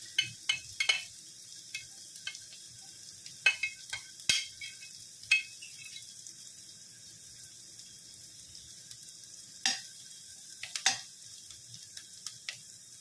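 Garlic browning in a pan while cooking Filipino creamy pork pastel: a low, steady sizzle with scattered sharp clicks and taps of a utensil against the pan, some close together, others spaced apart.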